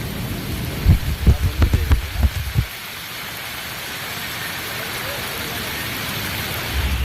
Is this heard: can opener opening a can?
no